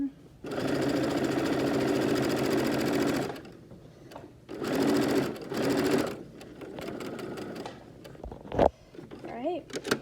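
Sewing machine stitching fabric face masks at speed, a loud steady mechanical whir in long runs that stop and restart, with fabric handling noises and a voice talking between runs.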